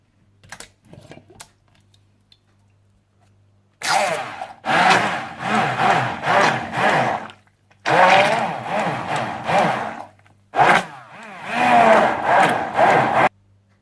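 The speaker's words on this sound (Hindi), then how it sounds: "सबसे पहले आप टमाटरों के कैन को थोड़ा सा ब्लेंड कर लीजिए।" Canned tomatoes are pulsed in a blender for pizza sauce, with several loud grinding bursts of a few seconds each, separated by quiet pauses after a near-silent start.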